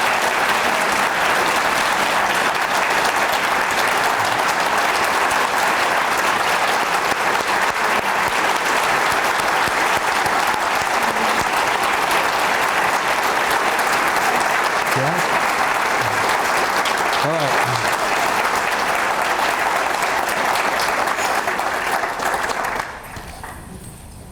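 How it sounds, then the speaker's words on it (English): Loud, sustained clapping from an audience showing support, a dense steady wash of hands lasting over twenty seconds before cutting off abruptly, with some crowd voices mixed in. "I'm going to have you just show a round of support, a loud, strong clap support"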